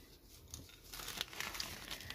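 A sheet of red paper, marked in red pencil, crumpled and folded into quarters: soft, close crinkling that grows busier in the second half, faint and with no voices.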